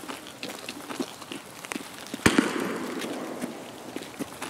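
A single sharp sniper rifle shot rings out in the Woods map of Escape from Tarkov. It has a lingering, echoing tail and comes through amid faint ambient clicks, with no talking.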